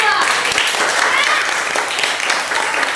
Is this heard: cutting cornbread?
no